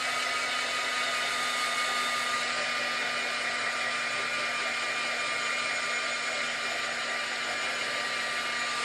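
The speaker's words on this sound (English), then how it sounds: "I'm going to take my heat tool and I'm going to lightly heat this up just to help the glue dry faster." A heat tool blows steadily to dry glue on a mixed media notebook page, a constant whirring hiss of fan and airflow that holds level throughout, alone without talk.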